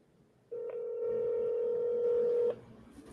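A phone places a call, giving one steady electronic tone that holds for about two seconds and then cuts off. It is clear and fairly loud against a quiet background.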